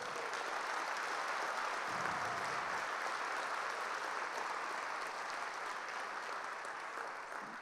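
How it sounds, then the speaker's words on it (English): Steady, sustained applause from an audience thanking the volunteer committee at an aviation event, a dense wash of clapping lasting throughout and tapering slightly at the end. "Let's give them a round of applause."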